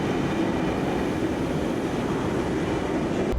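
Train running through an underground subway station in Sydney, a continuous loud rumble of wheels and carriages with a steady roar filling the platform, no voices heard.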